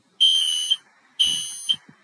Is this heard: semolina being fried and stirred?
no